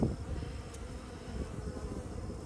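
Dense, low humming drone of many honeybees buzzing close by at a hive, steady and continuous throughout.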